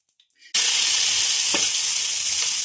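A hot oiled griddle for beetroot thalipeeth bursts into loud, close sizzling after half a second of near silence, then crackles steadily to the end.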